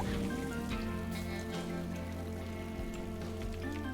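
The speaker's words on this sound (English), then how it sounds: "I'm really not used to the downpour" Heavy downpour rain effect in the video game The Binding of Isaac Rebirth, a continuous wash of falling drops layered with game music and tones, steady and moderately loud throughout.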